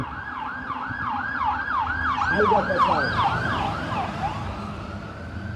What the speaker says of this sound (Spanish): vamos a esperar que pase esta otra ambulancia